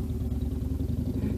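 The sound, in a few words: motorcycle passing by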